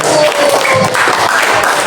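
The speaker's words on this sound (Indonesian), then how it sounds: "Tepuk tangan untuk kelompok 1." A classroom of students gives a short round of applause for a group that just finished presenting, a brief burst of scattered hand clapping close by.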